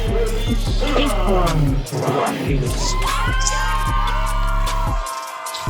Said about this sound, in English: And we hear that Heathen Clan clap crowd.